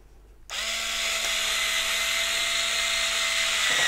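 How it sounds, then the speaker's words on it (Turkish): A cordless drill spins up abruptly and whines at a steady high pitch for a few seconds while driving a screw into a vintage-style bag handle, close and loud with no talking. "Biz dediğim gibi çok burada taktığımız için böyle şarjlı bir matkap aldık."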